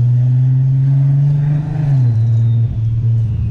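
A Golf R32 MK5 biturbo tuned to 650 hp with a DSG gearbox rumbles loudly and close at steady high revs, its deep engine note dipping briefly in pitch before settling again, with no talk.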